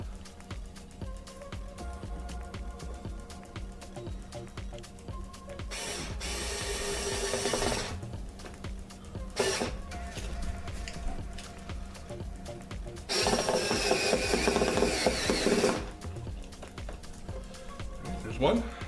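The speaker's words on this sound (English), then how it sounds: "All right, let's attach our screws." Screws being driven in while a custom picture frame is assembled, with two longer bursts of mechanical driving noise and scattered ratcheting clicks over steady background sound.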